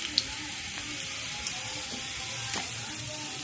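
Rolls deep-frying in hot oil until red and crisp, a steady close sizzle with small pops and occasional clinks of stirring, no talk.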